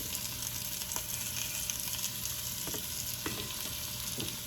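Chicken pieces fry in a pan for French onion soup chicken, giving a steady, close hiss of sizzling fat with a few soft clicks and taps from stirring scattered through.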